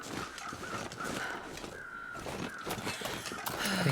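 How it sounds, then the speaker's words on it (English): Birds caw and call across a snowy canyon in The Long Dark, with repeated crow-like cries scattered at varying distances over a constant wind-like background, with no voices. "I hear birds like literally everywhere."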